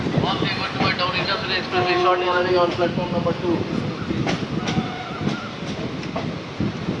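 The Ganadevata Express pulls through Bolpur Shantiniketan station, a steady rumble of the train with rhythmic clicks and metallic squeals, while people talk over it throughout.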